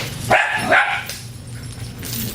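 Lakeland terriers give two sharp, close barks in quick succession, then quieter yips and whimpers in the background.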